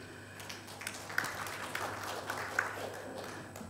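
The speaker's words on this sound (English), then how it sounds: "Parang mahina ang clap" Sparse, thin applause from a church gathering at a diocesan talk: scattered, faint hand claps with a few sharper claps standing out over a soft, continuous room hiss.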